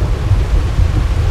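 Heavy rain with rumbling thunder at night in the video game GTA San Andreas, a loud, dense low roar and steady downpour filling the whole moment with no voices.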